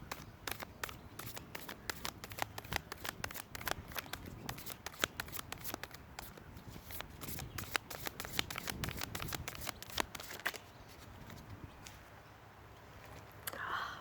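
Oracle cards are shuffled quietly and quickly, giving a long run of rapid papery riffles and flicks that continues for about eleven seconds before fading to near silence.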